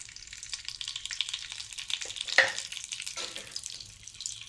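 Two teaspoons of ghee warming in a pan for semiya payasam, a soft continuous hiss and faint sizzle with a single sharper crackle midway, close and quiet.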